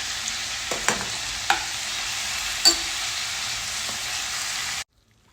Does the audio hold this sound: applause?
no